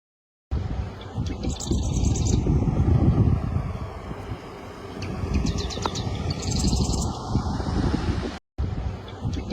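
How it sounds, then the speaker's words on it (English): Birds chirp in short bright bursts outdoors in Oregon, set against a steady roar of wind and a low rumble that sounds like a passing aircraft overhead. "But you just hear birds chirping."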